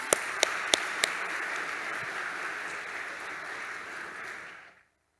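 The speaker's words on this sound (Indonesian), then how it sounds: "Tepukkan untuk kalian." Applause for graduating students at an Indonesian high school graduation ceremony; a crowd claps steadily with a few sharp close claps at the start, then the sound fades out to silence.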